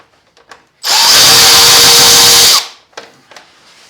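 A power drill backs a screw out of the front grill of a Lifan KPR 200 motorcycle, a single loud, close whirring burst lasting nearly two seconds, framed by small clicks and handling taps.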